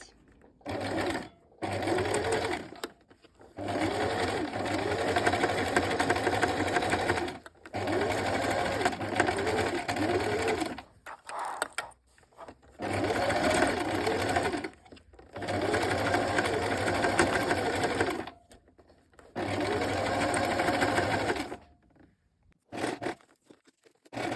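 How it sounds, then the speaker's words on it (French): A sewing machine runs in long steady bursts with short pauses between, stitching a dress ruffle onto the shoulder straps. The motor whirs loud and close throughout. "Quand vous avez fini de coudre votre volant aux bretelles"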